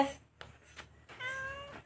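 A cat meows a few times in short, close calls, the last one longer and drawn out.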